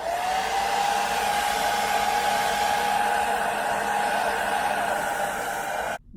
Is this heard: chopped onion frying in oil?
no